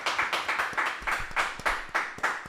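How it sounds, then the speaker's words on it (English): Talk show audience clapping in a steady, rhythmic beat, about three claps per second, fairly faint and without voices. "Real quick, clap it up."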